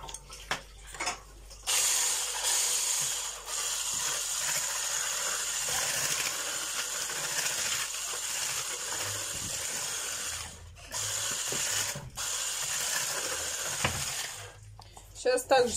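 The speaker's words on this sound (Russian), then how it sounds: "все это взобьем блендером" A blender whisks a batter mixture in several bursts with short pauses between, a steady motor drone up close, with occasional clinks around it.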